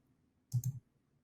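A computer mouse gives two quick, close clicks in rapid succession against a near-silent background.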